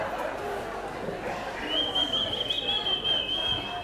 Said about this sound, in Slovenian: jaz sem žvižgal